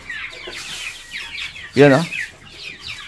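Farmyard chickens clucking in short bursts around a rural Vietnamese home, one louder close squawk standing out while people talk nearby.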